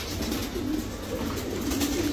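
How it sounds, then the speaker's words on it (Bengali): A male racer pigeon coos in low, soft, repeated pulses, close and continuous over a faint background hum. "একদম ওভারলাইট কালারের সবজি রেসার নর কবুতর, কি সুন্দর একটা নর মাশাআল্লাহ।"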